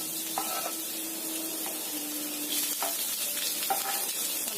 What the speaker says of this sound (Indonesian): Kita tumis bawang putih dan juga cabenya.